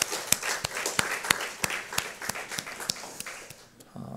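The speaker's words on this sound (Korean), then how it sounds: "이 찬송 가운데 임하신 하나님께 감사와 영광의 박수 올려드립니다." A church congregation clapping in praise during a Sunday morning service, a few moderately loud sharp claps spread across a background hum, ending abruptly.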